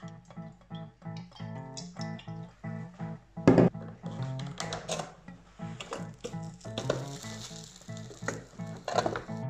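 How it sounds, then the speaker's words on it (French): Oiled ciabatta, an Italian bread, sizzling on an electric grill, with a continuous crackling fry and occasional scrapes and clatter of handling, heard close with no talk. "un petit ciabatta, pain italien, que je vais venir huiler un petit peu et je vais le mettre sur un grill"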